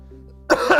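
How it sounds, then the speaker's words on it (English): A man with a cold clears his throat once, a close, loud, rough burst that follows a quiet stretch of low hum. "If you hear me clearing my throat out, that's why."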